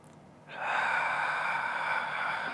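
A long, steady breath drawn in or out during a yoga session, starting abruptly and holding as a soft, close airy hiss for about two seconds, with no talking.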